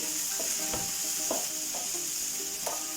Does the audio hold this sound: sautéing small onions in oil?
yes